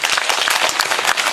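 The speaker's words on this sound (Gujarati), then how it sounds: "એકવાર એમના માટે તાળીઓ થઈ જાય મિત્રો." A crowd claps in a dense, continuous burst of applause at an outdoor Aam Aadmi Party rally in a village in Gujarat. The sound is loud and close throughout.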